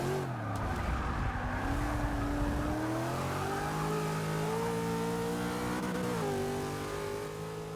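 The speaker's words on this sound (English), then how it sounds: "This is an A-Class Mazda Formula car." An A-Class Mazda Formula car racing in the Forza video game, its engine revving loud and continuous with rising and falling pitch as it accelerates and shifts, with a brief dip near the middle.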